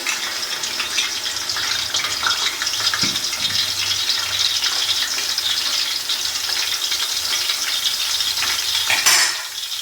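Garlic-ginger paste sizzles in hot oil for a camel-meat nihari, a steady close hiss of frying that runs throughout with small crackles and a brief louder burst near the end.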